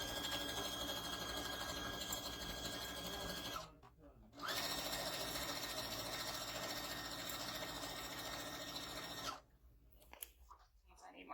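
A sewing machine stitches a duffel bag, whirring steadily at a loud level. It stops briefly near four seconds, runs again for several seconds, then halts near nine seconds. A voice talks quietly in the background.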